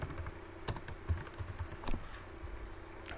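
Quick, uneven typing on a computer keyboard while entering school fee settings, crisp close key clicks in a steady patter with no voice.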